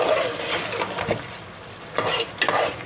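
Green chillies cook in oil in a karahi for charsi karahi on a high flame, a close, steady sizzle broken by scraping and clinking stirring strokes, with no talk.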